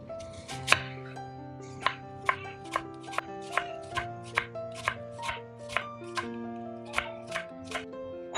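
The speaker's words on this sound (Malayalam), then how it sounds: "ഞാനിപ്പോൾ നീളത്തിലാണ് ചോപ്പ് ചെയ്തേക്കുന്നത്." Knife chopping purple cabbage lengthwise on a cutting board, a steady series of about a dozen crisp, evenly spaced chops, close and clear, over faint background music with no talk.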